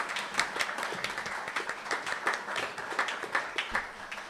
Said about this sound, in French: Je crois qu'on peut les applaudir quand même.